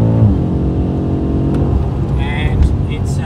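BMW M5 F90 engine drones from inside the cabin during a hot lap with traction control off, a steady mid-pitched hum with a brief shift partway through, under someone speaking.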